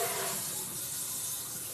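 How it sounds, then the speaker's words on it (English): A kitchen sink sprayer runs water into dishes, a steady loud broadband hiss filling the short span without talk. "My husband uses the sprayer."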